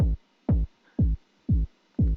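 Distorted, low-pass filtered dub techno drum pattern built in Ableton, a deep muffled kick thumping five times at an even, steady pulse, with faint filtered texture between hits.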